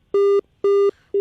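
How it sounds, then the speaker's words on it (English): Telephone busy signal on a dropped call-in line to a radio program: loud, evenly spaced beeps, each about a quarter second long with equal gaps, repeating alone with no talk. "We keep losing the phone calls."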